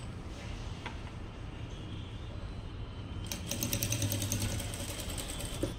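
A sewing machine stitches a blouse puff sleeve, starting as a low hum and then breaking into a faster, rhythmic mechanical whirr partway through, close and moderately loud.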